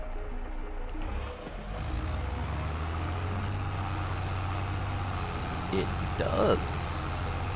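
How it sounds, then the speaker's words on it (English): A tractor in Farming Simulator 22 works a field planted for wheat, its engine a steady low drone throughout with faint mechanical clatter. A person speaks briefly over it. "we're gonna see if this tractor has the gumption"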